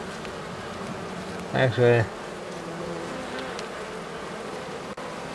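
Honeybees buzzing at a hive during an autumn colony check, a steady dense hum filling the background, with a voice speaking briefly near the start.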